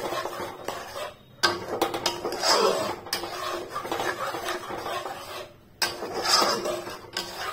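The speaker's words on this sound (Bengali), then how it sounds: "এখন এই সব জিনিসগুলোকে আমি এইভাবে একসাথে অ্যাড করে মিক্স করে নিচ্ছি" Metal spoon scraping and clattering in a pan while chickpeas and spices are stirred together for chana masala, with repeated clinks and rubbing strokes in an irregular rhythm, close and fairly loud.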